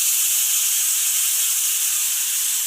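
Cut banana pieces frying in hot ghee over medium heat for a sweet, a steady close hissing sizzle that holds evenly throughout with no talk.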